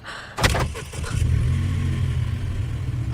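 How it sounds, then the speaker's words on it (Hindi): A car engine starts with a sharp crank and catch, then settles into a steady low idle rumble, close and alone, with no talking. "ये गाड़ी कैसे ऑन हो गई?"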